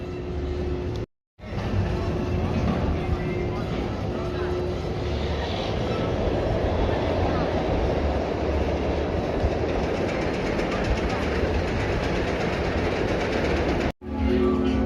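A roller coaster train at Six Flags Magic Mountain rumbles and rattles continuously with a low droning roar and clattering wheels, close and loud, briefly cut off near the start and again near the end.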